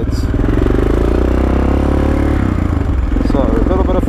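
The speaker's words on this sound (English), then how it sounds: "he's on his 1-to-5 pit bike, and he's showing me where he always rides." A 125 pit bike ridden along a trail, its engine droning loudly and steadily up close with clattering and scraping over rough ground throughout.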